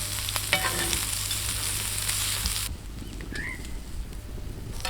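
Beef shawarma filling sizzles loudly as it is stirred in a frying pan, with scraping clatter; the frying drops abruptly to a quieter hiss partway through.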